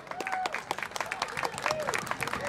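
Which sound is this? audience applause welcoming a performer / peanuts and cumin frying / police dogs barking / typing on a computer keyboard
audience applause welcoming a performer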